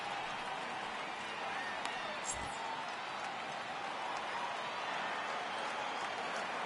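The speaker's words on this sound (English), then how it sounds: "Crowd gets up for the 3-2." Steady crowd roar from a baseball video game stadium, with fans rising for a 3-2 count late in the game, a continuous wash of cheering throughout with a brief low thump near the middle.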